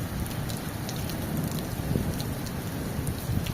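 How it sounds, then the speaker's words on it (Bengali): Steady rain falls in Saudi Arabia, a dense close hiss with occasional heavier drops striking a surface and a low rumble underneath, with no talking. "দেখেন সৌদি আরবে কিভাবে বৃষ্টি হচ্ছে"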